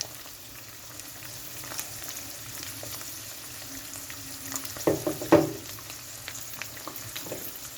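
Chicken for tantuni fries in oil with chili powder in a home kitchen pan, a soft steady sizzle with a few louder crackling bursts and stirring knocks midway, close and without talk.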